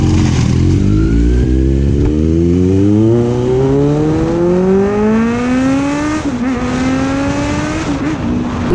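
A Kawasaki Z900 motorcycle engine revs hard, its loud, close whine climbing steadily in pitch with a brief dip and catch near the end, and no voices over it.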